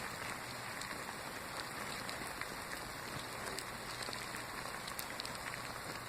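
Ten thousand mealworms writhe and crawl over one another, their scaly skins scraping into a dense, steady static-like crackle with tiny clicks throughout, faint and continuous.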